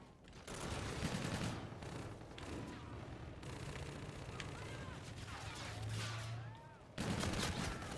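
Gunfire in the Infinite Warfare multiplayer beta video game, bursts of shots and impacts amid game effects, moderately loud, with a voice talking at times.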